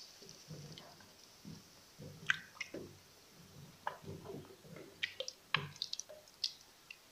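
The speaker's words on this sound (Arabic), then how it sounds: "ها هو غنزيد الماء السخون شويه ما نكتمش" Hot water is added a little at a time to a pot of traditional corn flour porridge. Faint, close drips and wet squishes come in small irregular bursts.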